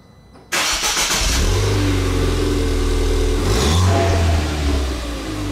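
A Ford Fiesta ST engine cranks and fires up abruptly, then idles loud and close before a rising rev and settling back down.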